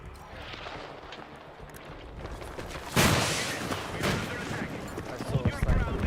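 Light machine gun fire in Counter-Strike, a burst of rapid loud shots kicking in midway and continuing in rattling bursts over game ambience, with a voice talking briefly.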